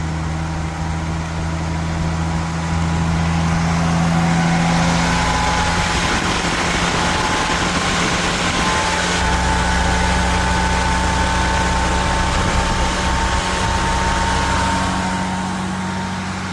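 A vintage MOPAR engine fitted with an electric choke starts up and settles into a steady idle, a continuous loud drone with a low hum that holds throughout.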